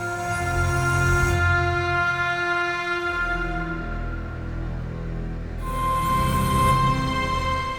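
A Roli Seaboard Rise 2 plays an Equator synth patch that blends custom samples with Roli samples: sustained, rich chords with a deep low end, shifting to a new chord midway and swelling again at the end, with no talking.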